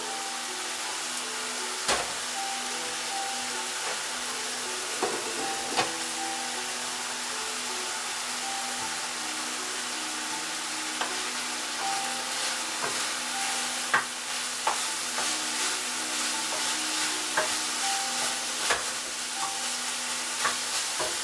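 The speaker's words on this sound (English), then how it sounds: "The greens are baking away pretty good. A lot of water in there. Going to stir it." Green peppers and greens cooking in a pan with plenty of water, stirred now and then: a steady, loud sizzle and bubbling with occasional scraping clinks of the spoon against the pan, continuous throughout with no talk.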